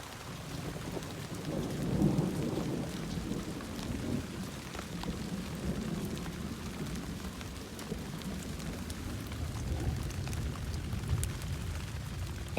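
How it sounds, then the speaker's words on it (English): A thunderstorm with a heavy downpour roars steadily as dense rain hits surfaces, while low thunder rumbles swell around the early part and recur faintly, with no voices. "That downpour, the first one, I think that warranted the flash flood warning"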